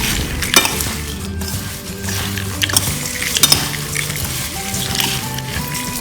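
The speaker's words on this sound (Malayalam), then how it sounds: "എന്നിട്ട് ഇതെല്ലാം കൂടെ മിക്സ് ചെയ്തെടുക്കാം." A spoon stirs spices into a Kerala mixture snack in a metal pan or bowl, giving scraping, rustling strokes with sharp clinks of cutlery against the dish, close up and without talk.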